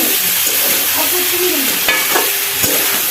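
Chunchudi fries in a pan while being stirred, making a dense, loud, close sizzle that hardly changes, with a few faint scraping and clicking touches.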